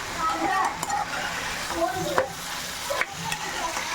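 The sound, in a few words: stirring tapioca stir-fry in a pan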